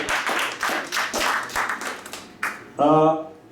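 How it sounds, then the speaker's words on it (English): A small audience at an English-language comedy open mic in Moscow claps in uneven bursts that swell and fade, followed at the end by a short loud shout or cheer. "let's hear more applause"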